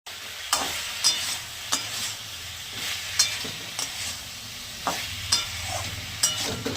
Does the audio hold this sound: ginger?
yes